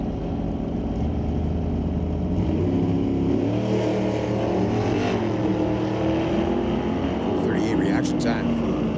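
Two drag racers, a 71 Chevrolet Vega and a wheel-standing 66 Mercury Comet, roar at Mission Raceway Park, their engines a loud, sustained rumble with rising revs, heard under a track announcer's voice.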